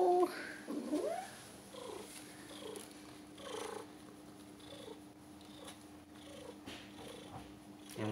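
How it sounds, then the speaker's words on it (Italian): A newly adopted cat purrs steadily and softly at close range throughout, with a brief meow-like vocal sound at the start and faint household noise. "io non avevo mai visto un gatto fare le fusa mentre ci fanno il prelievo"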